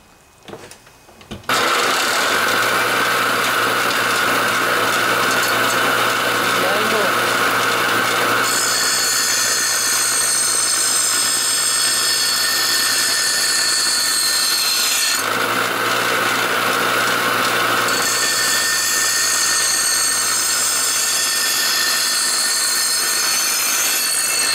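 Bench grinder wheel grinding a steel lawnmower blade, a loud continuous abrasive rasp over a steady motor hum, with a brief change in the grind midway as the blade is repositioned and pressed again.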